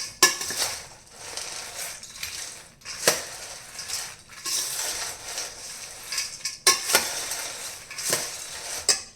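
Hyacinth bean namkeen being mixed with chaat masala and salt gives off repeated crisp scraping clatters of a spoon through dry, crunchy snack, coming in irregular bursts close by with no voices.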